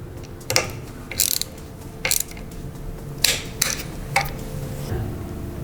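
Screws on a bicycle pannier rack are tightened with a torque wrench to 5 Nm, giving several short bursts of close, crisp ratcheting clicks separated by brief pauses.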